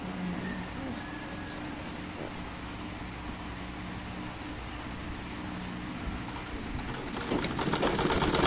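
A sewing machine runs steadily while stitching a square-neck nightie, an even mechanical hum with a low whir, moderately close and unbroken, growing a little busier toward the end.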